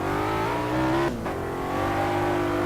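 A BMW M3 engine in a racing video game roars with a steady, high revving tone, briefly dipping as if shifting gear, then climbing again, loud and close.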